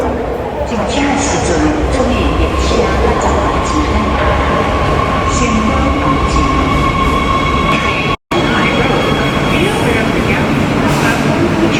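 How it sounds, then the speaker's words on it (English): A subway metro train in China rolls into a station at night with a loud, continuous rumble of wheels and rail noise, high squeals cutting in above it and one very brief dropout. "Here comes the subway, the metro."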